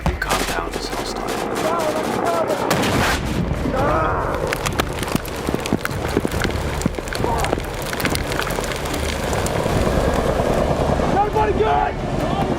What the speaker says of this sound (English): They were met with gunfire, mortars, and rocket-propelled grenades.